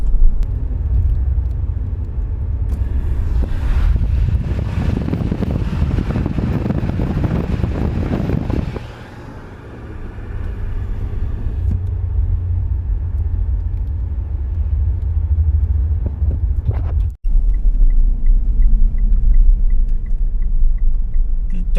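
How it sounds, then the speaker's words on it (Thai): A shuttle vehicle climbing the road up to a Thai national park gives a loud, steady engine rumble with heavy wind buffeting on the microphone. The noise eases briefly midway, then a sharp break is followed by a steady drone. "นั่งรถรับส่งขึ้นมานะครับ"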